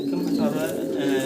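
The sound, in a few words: fancy Mukhi pigeons cooing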